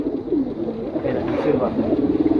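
A silver pigeon at a pigeon seller's collection gives soft, low, rolling coos, close and fairly loud, over a light background murmur.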